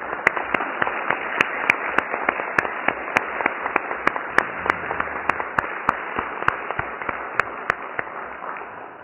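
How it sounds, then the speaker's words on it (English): Applause at an annual town meeting, a continuous wash of clapping from the assembled residents with sharp individual claps standing out in a regular rhythm, steady and moderately loud throughout. "I think be appropriate to just give her a round of applause."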